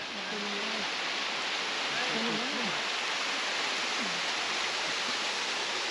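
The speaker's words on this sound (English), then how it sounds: "And here's Lesmurdie Falls." Lesmurdie Falls roars as a loud, constant broadband wash of falling water, with a few brief voices speaking faintly beneath the rush.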